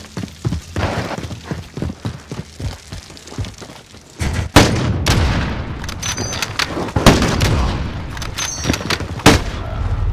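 Sniper rifle shots in a Call of Duty Modern Warfare gunfight match: a quick series of sharp cracks, then heavier booming shots and sustained loud combat noise, close and dominant with little talk.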